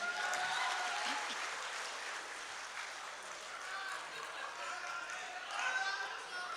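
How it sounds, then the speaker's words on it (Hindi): Audience applause at a mushaira, an Urdu poetry gathering in Jubail, a steady broad wash of many hands clapping that holds evenly throughout and swells slightly near the end, with some crowd murmur and voices mixed in. "एक बार ज़ोरदार तालियां बजा के इजाज़त दें"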